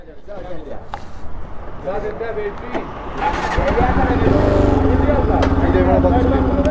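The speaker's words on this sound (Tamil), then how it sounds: "வண்டி ஸ்டார்ட் பண்ணிட்டு போடுங்க" A motorcycle engine on a ride from Madurai to Ladakh is started, turning over and catching, then settling into a steady, loud idle that keeps running close by, with people talking over the start.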